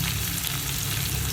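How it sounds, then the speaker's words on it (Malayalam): Finely chopped onions fry in oil in a pan for a Kerala-style prawn biryani, giving a close, steady, crackling sizzle with no talking. "ഞാനൊരു പാനിൽ എണ്ണ ഒഴിച്ചിട്ട് നമുക്ക് അതിനകത്തോട്ട് സവാള ചെറുതായിട്ട് അരിഞ്ഞതൊന്ന്"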